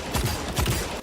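Two quick gunshots from the Ace of Spades in the video game Destiny 2, about half a second apart, each a sharp punchy crack with a low thud, firing in a steady rhythm.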